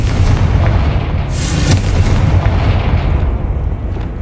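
Confringo fire spell blasting in Hogwarts Legacy, a dense booming burst over a constant low rumble, with a sharp crackling flare in the middle and the roar fading slowly afterward.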